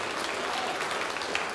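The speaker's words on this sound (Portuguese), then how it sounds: "Vamos aplaudir mais ao nome de Jesus." Church congregation applauding during a sermon, a steady dense wash of clapping hands filling the space, continuous and moderately loud throughout with no voices standing out.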